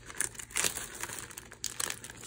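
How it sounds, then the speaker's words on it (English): A small plastic bag of cinnamon crinkles in a home kitchen while vegan chocolate chip cookies are being made, giving two short, close bursts of dry rustling separated by a quieter pause. "which is in its own little plastic bag, but it doesn't zip very well"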